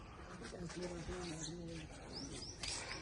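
Pet pigeons coo softly nearby, a few low rolling calls under faint chirps, with someone talking over them in a quiet setting.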